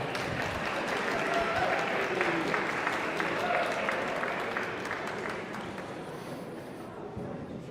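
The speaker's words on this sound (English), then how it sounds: "how about a great round of applause for our incredible musicians tonight?" An audience at a church benefit concert applauds the musicians, a steady wash of many hands clapping that holds at an even level and fades slightly toward the end, with faint voices mixed in.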